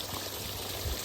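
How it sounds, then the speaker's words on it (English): Water from a roof leak during freezing weather pours out and drips into one spot, a faint steady trickle with a slightly stronger splash near the end. "water is pouring out of here and then dripping into this spot"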